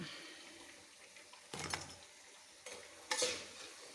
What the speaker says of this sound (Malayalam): നമുക്കിത് കോരിയെടുക്കാം നല്ല ക്രിപ്സിയായി നമുക്ക് കോരിയെടുക്കാം